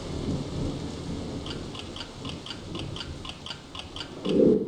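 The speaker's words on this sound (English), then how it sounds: "Maybe our friends came in here to take shelter from the rain." Rain falls steadily in Battleblock Theater with low rolling thunder rumbles, a regular ticking clock-like pattern through the middle, and a sharp thunder crack near the end.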